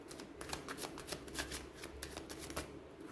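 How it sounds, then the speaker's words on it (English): A deck of tarot cards being shuffled close up, a quick run of crisp riffling flutters and soft slaps lasting a few seconds, quiet and alone. "I think I'll need to shuffle one more time."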